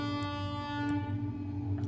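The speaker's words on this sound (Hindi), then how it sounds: "थोड़ा सा ट्रेन का हॉर्न आ रहा है" A train horn sounds as a steady, sustained tone held for the whole short stretch, moderately loud and continuous, with no one talking.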